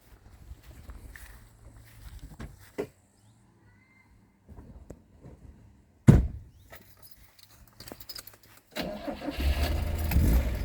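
A classic Fiat car with a rebuilt engine is started: faint shuffling and clicks, then a sharp crank burst, and finally the engine catches and idles in a steady, rough, close rumble.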